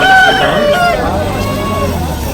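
A heavy rooster crows loudly and close by at a Saturday village market in Byreddipalli, the long harmonic call falling away over crowd babble and other fowl noises.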